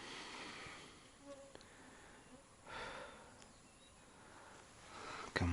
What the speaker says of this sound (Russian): Комарье.